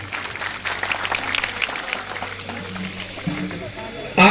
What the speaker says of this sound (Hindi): तालियों के साथ अभिनंदन करता हूं।